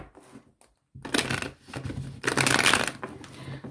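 Two mixed oracle card decks, amethyst and indigo, are shuffled by hand in a close rustling, slapping clatter that starts after a brief lull and builds in uneven waves.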